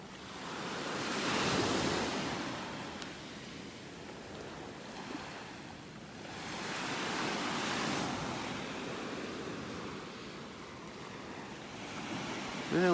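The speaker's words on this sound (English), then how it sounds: "Well, the water is churning over here, over in this area." Ocean surf churning along a beach in North Naples, Florida, rising and falling in two broad swells of rushing water with wind buffeting the microphone, moderately loud and without any voices.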